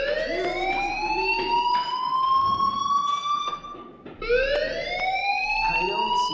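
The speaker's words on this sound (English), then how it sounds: "do you hear that fire alarm?" A fire alarm blares across campus in the video game Life is Strange, rising, wailing electronic tones sweeping upward in two long cycles, loud and continuous with a brief dip between them, no voices.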